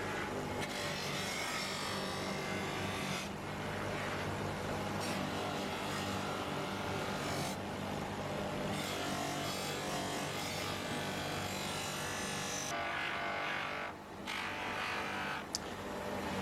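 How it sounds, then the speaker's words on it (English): A polishing machine brushes an aluminium Harley-Davidson side casing, giving a loud, continuous whirring grind whose texture shifts and briefly cuts out as the piece is moved against the brush, with no talk. "So this is brushing the main casing."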